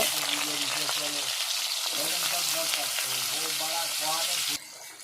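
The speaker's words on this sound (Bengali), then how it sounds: "এবারে কলা আলু ভেজে নেব" Raw banana and potato pieces fry in hot oil with a steady, close sizzle that fills the clip, while a voice talks over it, before the sound drops off sharply near the end.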